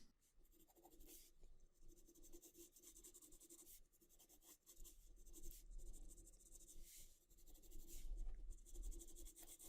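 A pencil lightly sketches wood cracks on paper, soft close scratching and rubbing strokes coming in short bursts with brief pauses, quiet and alone.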